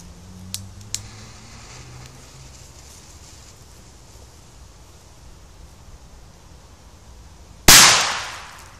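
After a few faint clicks and quiet outdoor background, one loud A-Böller firecracker blast cracks out near the end and rings off into a decaying echo.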